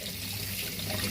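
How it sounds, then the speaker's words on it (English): Cool tap water runs steadily from a faucet over blackfish being prepared in a kitchen sink, a continuous close splashing stream. "the next step is to run cool water over it"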